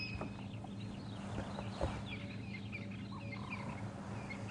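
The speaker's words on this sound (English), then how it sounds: "And like I said, crested francolins." Harsh repeated calls of crested francolins ring out against a steady outdoor hum on a safari drive, mixed with distant chirping from other birds.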